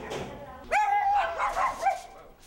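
A dog barks and whimpers at students canvassing door to door, giving a few close, yelping barks with short whines between them.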